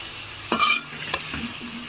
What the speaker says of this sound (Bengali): এবার আমি সজনা আর আলুগুলো দিয়ে ভালো করে কষাই নেব।